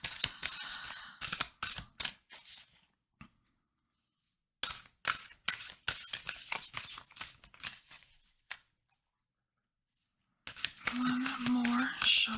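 Oracle cards being shuffled by hand in bursts of crisp riffling and soft slaps, close and fairly quiet, with pauses and a voice speaking between bursts.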